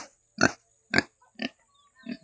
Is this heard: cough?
no